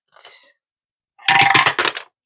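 Pink dice rolling across a table during a cash-stuffing savings challenge, with one short rattle and then a longer clatter of several quick bounces close by and fairly loud, no talking.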